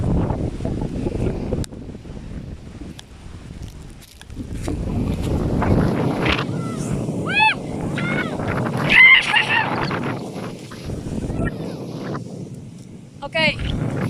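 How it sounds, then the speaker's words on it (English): Strong gusty wind in a 40 mph wind advisory buffets the microphone in rumbling surges that rise and ease, while people talk outdoors and birds chirp faintly in the background. "A lot of wind."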